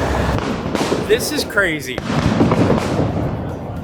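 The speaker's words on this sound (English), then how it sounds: "There are fireworks going off like at a height level that would like be illegal in all 50 US states." Fireworks bursting at the Fallas festival in Valencia, set off at low height across a park; a dense, continuous crackle and rumble of explosions fills the background while people talk over it nearby.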